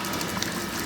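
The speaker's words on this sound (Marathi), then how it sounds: "जरा हातपाय धुतले." Water gushes and splashes as hands and feet are rinsed at a farm godown where bullocks are tied, a brief steady pour with no voices.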